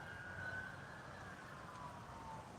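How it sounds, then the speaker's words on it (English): Sirens wail faintly in the distance over a steady wash of traffic noise, rising and falling without stopping, as police respond to a fire in Pigeon Forge. "A lot of sirens. Keep coming this way."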